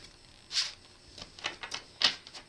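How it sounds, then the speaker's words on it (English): A deck of tarot cards given a firm shuffle, with a few crisp riffling snaps and soft card flutters in a quiet room, close and fairly faint, no talking. "And we'll do one more nice firm shuffle."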